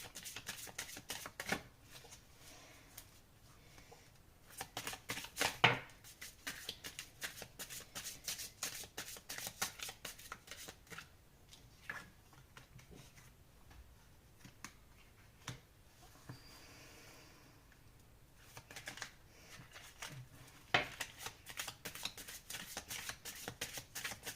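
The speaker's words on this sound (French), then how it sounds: "pendant que je bats les cartes" Tarot cards being shuffled by hand, close and quiet, with repeated riffles and sharp slapping flicks in irregular bursts and short pauses between them throughout.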